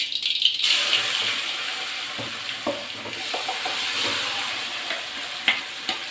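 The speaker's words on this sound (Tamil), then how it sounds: "நல்லா எண்ணெயிலே வதக்கணும்." Ridge gourd peel paste, ground with water, sautés in plenty of hot oil in a pan, giving a continuous close sizzle broken by scraping stirs and light rattles.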